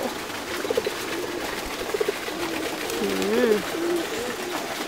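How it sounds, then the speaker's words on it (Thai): Pigeons at Wat Umong temple in Chiang Mai coo softly in a few low, rolling calls over a steady outdoor hum, with a faint voice nearby. "นกพิราบสีสวยเนี่ย ดูความสวย"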